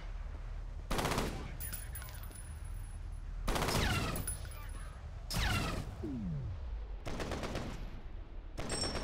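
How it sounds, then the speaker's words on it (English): Bursts of repeating cannon fire in the shooter game F.E.A.R., several loud rapid volleys separated by short pauses, with faint mechanical and whooshing effects between shots. "Repeating cannon, huh?"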